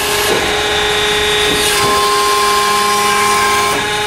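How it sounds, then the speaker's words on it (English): A ZR Series folder machine starts up and clamps, its torsion shaft moving: a steady, loud mechanical hum with tonal whine and faint periodic knocks, running continuously without speech. "So we're going to start the machine, and we're going to clamp."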